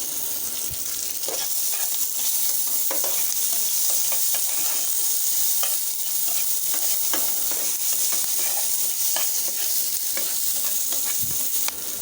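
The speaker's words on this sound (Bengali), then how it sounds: "এগুলো একটু ভালো করে ভেজে নেব" Chicken pieces with onion and green chilies fry in a pan, giving a constant loud sizzle and hiss broken by frequent light clicks and scrapes of stirring. No speech.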